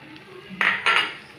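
A metal spoon scrapes and knocks twice against a pan while potatoes with spices are stirred; two short, close clinks over quiet kitchen background.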